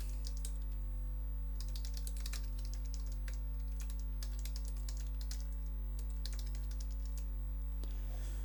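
Steady computer keyboard typing while details are entered into a record form, a run of quick, close clicking keystrokes with short pauses over a constant low electrical hum.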